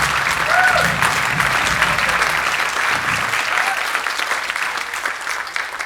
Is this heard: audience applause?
yes